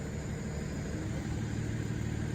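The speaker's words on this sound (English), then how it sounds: "that's the sound of a mulch truck, mulch delivery truck." A mulch delivery truck's engine rumbles steadily, a low, continuous idle that stays even throughout with no voices over it.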